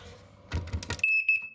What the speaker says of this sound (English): so I'm going to test the smoke alarm